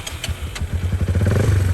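A warm Kawasaki Ninja motorcycle engine cranks and catches, a few ticking clicks followed by a low rumbling idle that builds into a steady, close, throbbing run.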